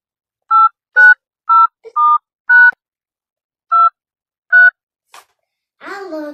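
Touch-tone keypad beeps dialing a phone number: seven short, evenly spaced tones, clear and close, followed by a brief click and a short burst of speech at the end.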